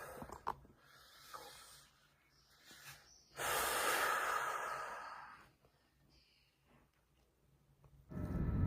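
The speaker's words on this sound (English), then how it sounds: "And you guys hear the way she's breathing." A woman breathes heavily with sharp nasal snorts and gasps, then a long, loud, hissing exhale, with quieter rasping breaths between and another forceful breath at the end, close and without words.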